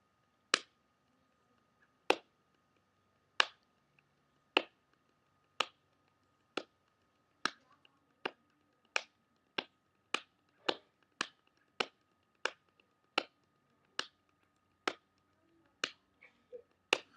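Sharp, evenly spaced slaps of hands on legs playing a five-stroke roll drum rudiment, about a dozen crisp hits at a steady pace, close and isolated against near silence.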